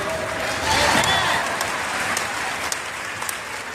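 An audience at a speaking event breaks into applause, a dense wash of clapping that swells briefly and then settles into steady clapping.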